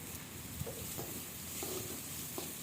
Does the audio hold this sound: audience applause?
no